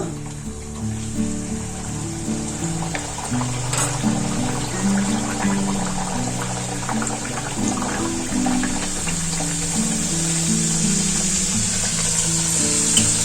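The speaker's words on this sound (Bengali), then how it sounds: "তেলটা গরম হয়ে গেছে কচুরিগুলো দিয়ে দেবো" Pea-filled kachoris, a winter tiffin bread, slide into hot oil and fry with a steady, even sizzle. Background music with a clear melody plays over the sizzle throughout.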